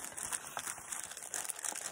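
Soft, close crinkling and rustling of crepe paper being handled, a quiet continuous crackle with small irregular bursts.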